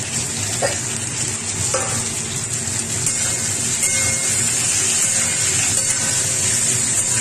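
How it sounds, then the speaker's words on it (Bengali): Peeled prawns and slit green chillies hit a pan where potatoes have been frying, giving a steady, loud sizzle that runs unbroken throughout with occasional spatula scrapes and no talking. "এর মধ্যে এবারে তুলে দেবো চেরা কাঁচা লঙ্কা এবং চিংড়ি মাছ ছাড়িয়ে রাখা"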